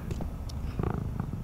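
A cat purrs in the video game Tales of the Neon Sea, a soft steady rumbling purr that continues throughout, with a few brief game sound effects over it.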